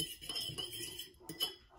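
A fork clinks against a bowl while tiramisu ingredients are mixed, giving a short run of light metallic taps that ends in a brighter clink, close and fairly quiet.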